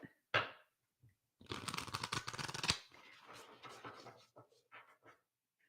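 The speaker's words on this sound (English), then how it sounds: "I'm going to start shuffling." Tarot cards shuffle in a riffling burst of papery flutter lasting about a second, preceded by a short tap and followed by softer scattered card handling and rustling, close and quiet.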